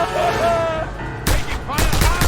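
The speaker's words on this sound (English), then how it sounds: "Taking fire." Gunfire erupts in a Just Cause game after a stretch of quieter ambience with faint tonal sound, a few sharp loud shots and bursts arriving in the second half.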